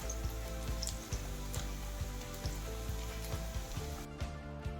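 Ginger, garlic and cumin paste sizzles steadily in hot oil for a squid curry, a continuous close frying hiss with small crackles and pops.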